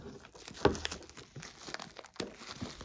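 Plastic wrap crinkles and tears as it is pulled off a Sonic Blu-ray steelbook, with close, irregular crackling bursts and one sharper snap early on.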